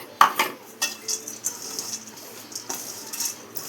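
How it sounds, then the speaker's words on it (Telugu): Crushed peanuts are tipped into soaked sabudana in a bowl, with a sharp initial clatter followed by a string of light spoon taps and clinks against the dish, close and fairly quiet, no speech. "ఇప్పుడు పల్లీలు దంచి పెట్టుకున్నాం కదా, అవైతే వేసుకుంటున్నాము."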